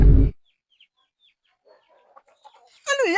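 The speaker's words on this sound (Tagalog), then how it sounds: "At gutom na rin aking alagang manok." A loud burst of noise from a pet chicken opens, followed by near silence with faint soft sounds, then a warbling clucking call rises at the end.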